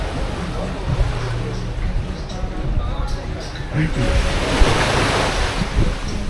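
Surf at Canasvieiras beach rolls and washes in a steady loud roar, with heavy wind buffeting the microphone and voices talking nearby.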